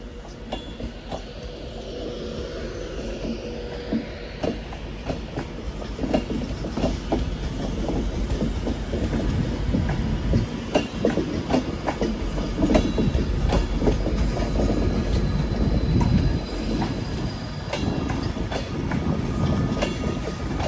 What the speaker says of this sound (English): And this Pendolino is City of Wolverhampton. 390-005.